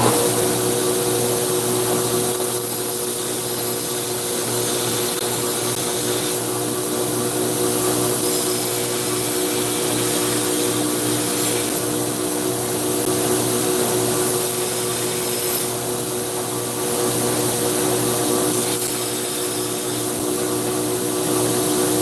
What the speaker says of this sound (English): So I'm just going to grind that off and make sure it's good.